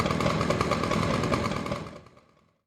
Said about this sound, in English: I threw a chainsaw sample into Phase Plant in a granular synthesis, and I just got this cool kind of sound.